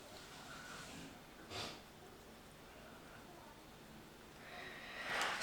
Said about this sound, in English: Sorry if you can hear my husband sniffing away out there.